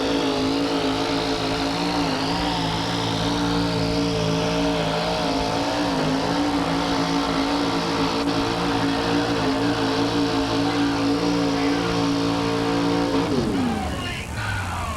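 Pulling truck roaring down the dirt track at a 1987 USHRA truck pull event in Buffalo, New York, its engine loud and sustained at high revs throughout before the pitch drops and fades at the end.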